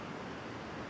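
Ocean waves break and churn below Oceanside Pier in California, a steady broad wash of surf noise with a wind-like hiss, continuous and fairly distant, with no voices.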